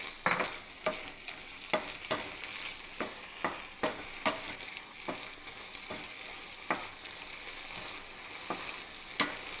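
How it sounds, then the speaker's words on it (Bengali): Jaggery being stirred into bottle gourd halwa in a hot pan: a soft, continuous sizzle under a regular series of spoon scrapes against the pan, close but fairly quiet, with no voices. "এবার আমি গুড়টাকে দিয়ে দিচ্ছি বন্ধুরা"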